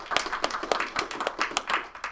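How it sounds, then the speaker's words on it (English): A small audience at a startup pitch event applauding, with scattered separate claps of moderate loudness rather than a dense roar, lasting about two seconds. "Let's give a big round of applause."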